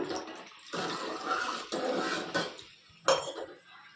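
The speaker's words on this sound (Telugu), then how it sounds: "ఇంకొక హాఫ్ చెంబు నీళ్ళు పోసుకుంటున్నాను నేను దీంట్లో" Water splashes and gurgles as it is poured into a metal vessel of cooking mutton keema, with faint clinks, fairly quiet and close.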